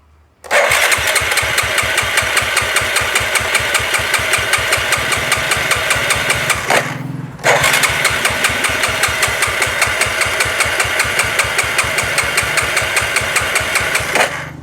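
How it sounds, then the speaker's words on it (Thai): A Honda Wave 125i motorcycle engine catches on the starter and settles into a steady, loud, rapid putter, cuts out briefly about halfway, then restarts and keeps running evenly up close. "บิดคันเร่งสุด เปิดสวิตช์กุญแจ บิดคันเร่งสุด แล้วกดสตาร์ท"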